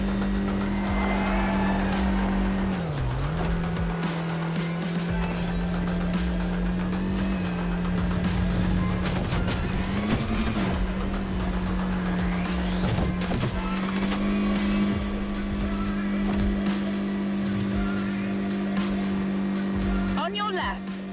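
An Audi races in The Crew Motorfest video game, its engine holding a steady loud drone with brief pitch dips on gear changes. Faint tire noise sits underneath, and a voice talks over the engine.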